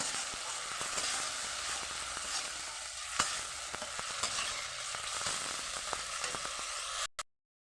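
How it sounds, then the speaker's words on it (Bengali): Raw banana kofta mixture fries in a pan, giving a steady, fairly quiet sizzle with occasional light crackles and stirring taps for about seven seconds before cutting off abruptly, no talking. "ভেজে নেব, কাঁচা গন্ধটা যেন ভালোভাবে চলে যায়।"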